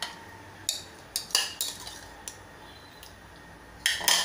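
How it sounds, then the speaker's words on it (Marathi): Remaining yogurt added to mango in a mixer jar, heard as a string of close clinks and knocks of a spoon against the jar at irregular intervals over a quiet background, with no talk. "आता यात आपण हे उरलेलं दही घालून घेऊया"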